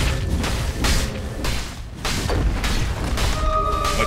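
A tower crumbling in a Dota 2 match, heard as a run of heavy booms and thuds with crashing debris, loud and close over dense game effects, with a high tonal chime entering near the end.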